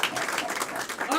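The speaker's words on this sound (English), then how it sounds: "clap for our volunteers again, everyone" Brief crowd applause for volunteers at a live comedy show, a short burst of clapping with a voice talking over it.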